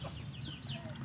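A neighbor's rooster crows and clucks faintly at a distance, with short rising calls above a steady low background hum.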